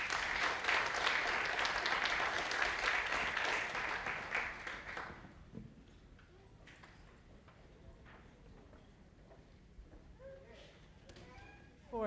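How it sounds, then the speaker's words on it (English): A crowd applauds students at a 2014 school awards ceremony, loud, dense clapping for about five seconds that then stops abruptly, leaving quiet room noise with faint scattered sounds. "Let's give all of the students a round of applause."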